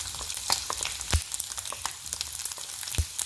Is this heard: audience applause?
no